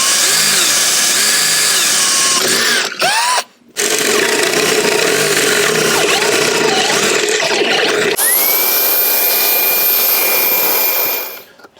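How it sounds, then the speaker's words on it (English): A loud, continuous power-drill whine grinding steadily through metal while fitting seats to a Land Rover Defender, with a brief pause partway through before the motor starts again and pitch shifts higher. "You can then drill through to 20 mil, and we know you've got the right size."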